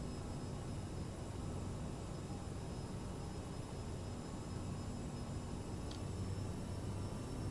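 CRJ1000 jet engines at high throttle in Microsoft Flight Simulator, a steady faint broadband roar with a thin high whine, unchanging and with no voices.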